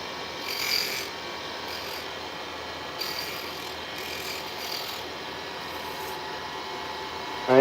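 Steady abrasive rubbing of sandpaper on a hawthorne wood knife handle, continuous scratchy strokes at close range with a few slight swells in intensity and no talking.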